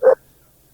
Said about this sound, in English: Was that a dog barking? That was a dog.